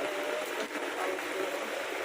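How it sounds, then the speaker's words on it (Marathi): Steady rain pouring down outdoors at a family home in rural Maharashtra, a dense continuous hiss that stays loud and even throughout with no pauses. "तर झालाय पाऊस चालू कसा पाऊस आहे"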